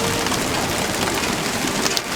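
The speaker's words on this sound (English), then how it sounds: "there was so much rain and wind that I couldn't see" Heavy rain lashing down with strong wind during a hurricane-season storm on the water, a dense, steady roar of drops pounding surfaces, loud and close throughout with no pauses.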